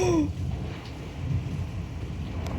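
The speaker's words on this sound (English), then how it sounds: "That's some loud thunder." Loud thunder from a nearly stationary storm with frequent cloud-to-ground lightning rumbles low and continuous through a wash of rain and wind, with a brief higher sweep at the start.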